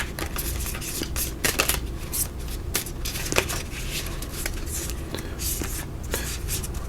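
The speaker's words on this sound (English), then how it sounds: "trying to shuffle heart-shaped cards" Repeated papery riffling and soft slaps of heart-shaped cards being shuffled by hand, close up, with a few words spoken in between.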